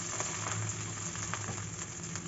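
Onions fry in hot oil with cardamom and cinnamon, a steady quiet crackling sizzle with occasional stirring, no talk.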